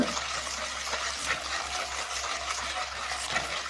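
A citric acid, salt and baking powder mixture is stirred for a brass and copper cleaning liquid, giving a steady close watery swishing and sloshing that runs without pause and without talk.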